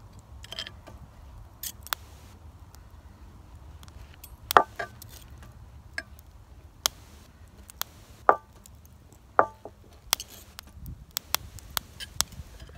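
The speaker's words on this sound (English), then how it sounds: "I like to put little slits in my sausages" A knife cuts small slits into sausages outdoors, giving sparse, sharp clicks and taps spaced irregularly against quiet woodland background, with no speech.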